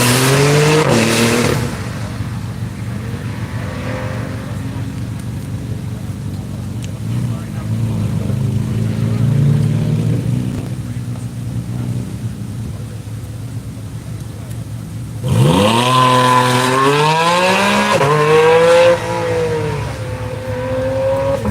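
A Porsche race car heads out onto the track during a One Lap of America event, its engine droning steadily at a distance, then revving up through rising gears near the end, with a commentator talking over it.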